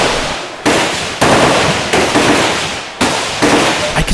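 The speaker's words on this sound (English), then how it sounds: "Did you notice the shooting in the background?" Gunfire from a nearby shooting range, where a machine gun is fired beside the traps in Vietnam: a series of sharp, loud bursts of about five shots, spaced unevenly, each ringing off before the next.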